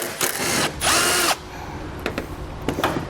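A power tool drives a 10mm battery strap bolt out of a vehicle, giving two loud whirring bursts in quick succession, followed by faint clicks and handling noises.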